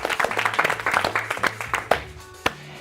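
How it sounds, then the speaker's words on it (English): A studio audience applauds a sponsor, Napa Auto Parts, at a giveaway winner announcement, with dense close clapping that thins into scattered individual claps toward the end. "Let's give Napa a round of applause."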